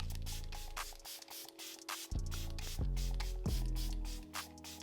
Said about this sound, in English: I will use a setting spray